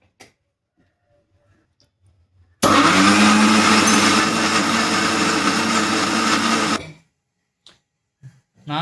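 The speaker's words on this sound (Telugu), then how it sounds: "జ్యూస్ కోసం మిక్సర్ మరియు జారు తీసుకున్నాం." A kitchen mixer grinder whirs loudly for about four seconds, blending peeled toddy palm fruit into juice in its jar, starting and stopping abruptly amid otherwise quiet surroundings.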